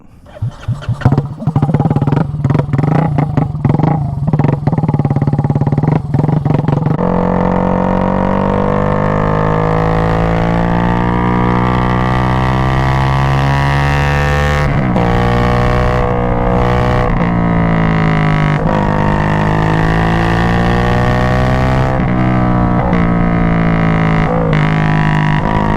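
A Honda Grom motorcycle fitted with a swapped-in 300 engine roars loudly and close, revving through rising and falling gear pulls with a steady, dense engine drone throughout.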